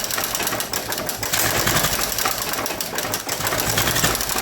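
A 1961 Nuffield Universal 3 tractor engine runs steadily with a dense, continuous mechanical rumble and knock, loud and close, with no talk over it.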